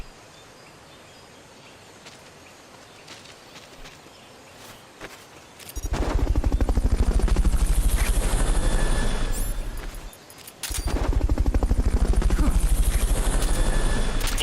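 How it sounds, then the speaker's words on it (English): Helicopter from a Fulton recovery in Metal Gear Solid: Peace Walker, a loud steady rotor roar that swells in, dips briefly, then returns at full strength. "Fulton recovery subject confirmed onboard helicopter."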